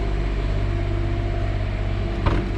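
A Cummins Onan generator runs with a steady, loud low-pitched drone and harmonic hum, its level constant throughout, broken only by a short sharp click or knock near the end; no one speaks.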